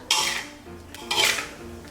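A spoon scrapes stir-fried jicama with shrimp from a pan onto a serving plate, two distinct metallic scraping strokes with clinks, close and clear without talk.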